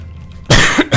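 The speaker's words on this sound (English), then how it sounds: "Still got that cough. It's really annoying." A single person coughs close to the microphone, two or three harsh bursts in quick succession after a quiet pause, with no speech.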